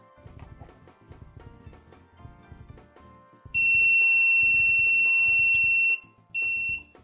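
An electronic buzzer on a student-built anti-COVID door project sounds a loud, steady tone for over two seconds, stops briefly, then sounds again, after a stretch of quieter rhythmic background music.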